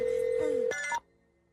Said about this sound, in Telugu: రింగ్ అవుతున్నదా?